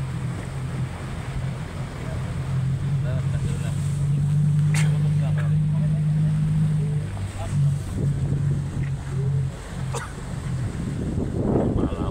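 A large boat engine at sea drones in a low, steady hum close by, rising and dipping slightly over wind and water noise, with people talking over it.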